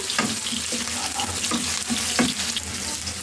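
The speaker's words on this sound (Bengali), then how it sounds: "পেঁয়াজটা একটু হালকা আমি ভেজে নেবো" Chopped onions frying in soybean oil in a pan, a steady close sizzle with a few soft stirring scrapes and spatters throughout, no voices.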